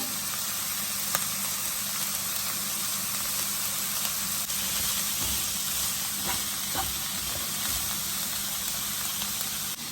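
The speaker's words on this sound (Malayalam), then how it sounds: "കരിവേപ്പില ഇടുവാണേ" Curry leaves and a little salt sizzle hard in hot oil, a loud, even, continuous hiss with small crackles scattered through it and no voices.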